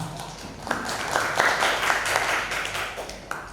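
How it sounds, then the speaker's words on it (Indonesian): Applause from an audience at an Indonesian school training session, a patter of clapping that swells after a moment and holds steady, fairly close, without talk. "Tepuk tangan untuk semuanya."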